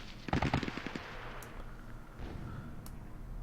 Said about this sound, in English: And fire from the machine gun.